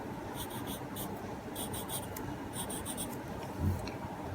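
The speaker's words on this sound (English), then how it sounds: "so I'm going to go ahead and add blend my pencil shading" Pencil shading on paper for a Zentangle drawing gives a soft, continuous scratchy rasp of graphite strokes close up, with a small bump near the end and no talking.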